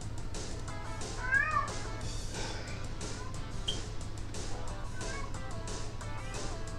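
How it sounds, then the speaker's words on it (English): Indoors during a live Formula 1 race review, a female pet cat meows repeatedly, several short plaintive calls spread through the stretch, fairly close and moderately loud above a constant low room hum. "And once again, I apologize for the fucking cat."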